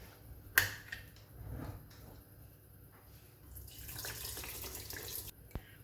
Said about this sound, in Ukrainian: Воду знову зливаємо у каструлю.